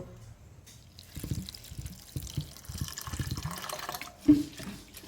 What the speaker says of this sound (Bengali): চিড়ে আমি ধুয়ে নেব।